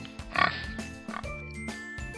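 A reader imitates a pig with a few quick, nasal oinking grunts, close and fairly loud over faint background music, in a read-aloud of a story about a piglet.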